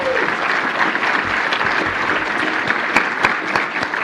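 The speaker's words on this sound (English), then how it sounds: "Let's give them a round of applause." Sustained applause from a WordCamp audience greeting the speakers, dense and steady throughout at moderate loudness, with a few sharper individual claps standing out near the end.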